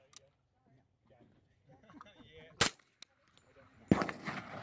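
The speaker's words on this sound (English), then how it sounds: "now we're going to show you a chronograph test with standard 230 grain off-the-shelf ball ammo, 45 ACP" A suppressed D3-45SD carbine fires 230 grain 45 ACP ball ammo, two sharp muffled shots a second apart, the second followed by a longer burst of noise, with quiet talk between.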